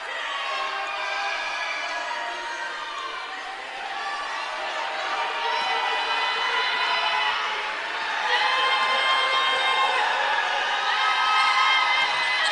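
A college basketball crowd at a Stetson versus Jacksonville game roars steadily and swells louder toward the end, a dense, sustained wash of cheering voices.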